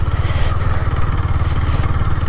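Motorcycle engine running steadily with a rapid low thumping beat, close and loud, as the bike rides beneath a bridge on Majuli river island in Assam, no voices over it.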